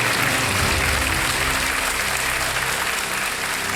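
Studio audience applause on the Kaun Banega Crorepati quiz show set, a dense, steady wash of clapping filling the room at close range and holding loud throughout with no pause.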